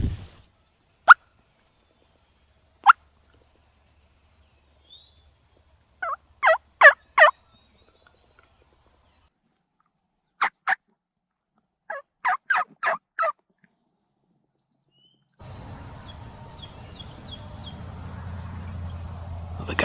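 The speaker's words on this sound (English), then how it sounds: "Well, the gobbling has been very light this morning." Wild turkeys gobble in the distance during a spring hunt in Wisconsin river bottoms, several separate bursts of rapid rattling gobbles spaced apart, followed by rustling handling noise at the end.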